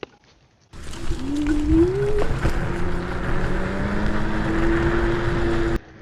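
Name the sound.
AUSOM L1 ABE electric offroad scooter riding in race mode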